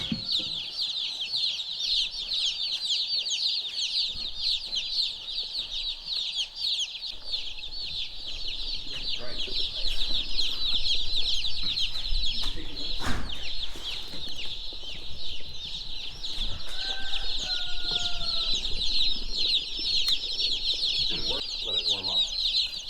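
Newly arrived chicks in a farm storage area, a dense constant chorus of high peeping with soft clucks throughout, close and loud, with faint talk in the background.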